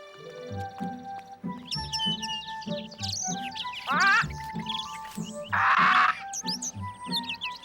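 Cartoon birds chirp and tweet in an animated children's Bible show, bright repeated calls over light background music, with a couple of louder, buzzier squawks mixed in.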